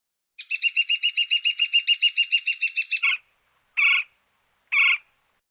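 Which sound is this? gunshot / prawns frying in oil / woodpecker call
woodpecker call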